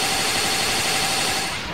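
A dense, continuous roar of rapid explosive bursts from a missile barrage attack in a Dragon Ball Xenoverse game, loud and unbroken like heavy gunfire, fading slightly at the end.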